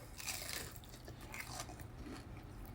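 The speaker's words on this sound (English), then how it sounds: "Hey, y'all hear that crunch, though?" Fried bang bang shrimp is bitten and chewed close to the ear, giving soft, irregular crunches over a low background hum, with no talking.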